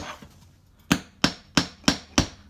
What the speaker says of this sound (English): So you practice your hammering.